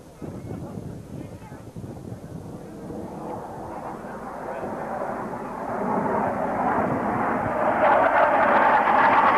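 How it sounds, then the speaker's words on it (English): Jet aircraft of the Blue Angels at a 1987 Carswell Air Force Base airshow roar through a line-abreast loop, a broad, wind-blown engine rush that swells steadily louder toward the end. "The power is eased as the aircraft round out the backside of this biplane line abreast loop."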